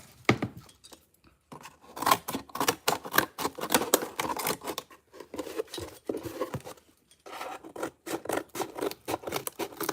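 Paper being cut with scissors for a carnival bunny costume craft, a long run of rapid crisp snips and rasping strokes in bursts with short pauses, close and fairly clear, no talking.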